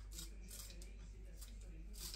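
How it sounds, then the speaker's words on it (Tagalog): Kitchen scissors snip through food such as coriander for spring rolls, making several faint, crisp cuts spread across the moment, with soft talk in the background. "Ito ay gunting sa foods."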